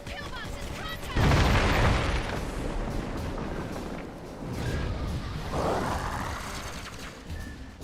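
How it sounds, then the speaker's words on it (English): Grenade blasts hitting pillboxes in the shooter Clive Barker's Jericho: a heavy boom bursts in near the start and rumbles off, then a second sweeping explosion follows a few seconds later, both loud over a continuous game backdrop. "Cole, drop a frag on those pillboxes."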